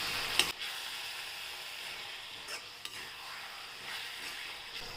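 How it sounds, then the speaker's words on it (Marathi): Idli Manchurian sautéed with chilli sauce in a pan, a soft continuous sizzle with a few sharp spoon or spatula knocks against the pan, fairly quiet and without speech. "आता हे छान परतून घेऊ आपण."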